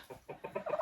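Chickens cluck outdoors in a short burst of several quick, close clucks, sharp and rhythmic, with no other sounds over them.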